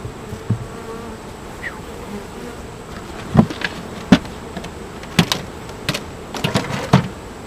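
Honeybees buzzing around an open beehive while a beekeeper pulls frames for inspection: a steady, close, droning hum with individual bees zipping loudly past the listener every second or so.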